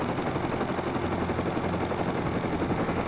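A helicopter in the video game Rust thrums with a fast, steady rotor chop and dense engine roar, constant and close for the whole stretch, with no speech.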